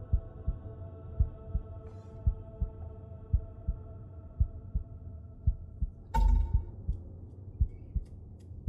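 A steady, regular heartbeat thumps low and close in the video game Unworthy, about two beats per second over a droning hum, with a brief burst of noise near the end.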